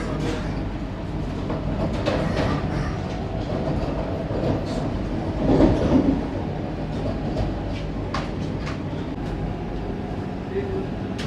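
Vande Bharat express train running on rails, a continuous rumbling roar with rattling wheel clatter heard from inside, a louder swell midway, with a voice talking over it.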